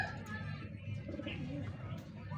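Pigeons coo softly and repeatedly at close range, their low throaty calls running together over a faint background.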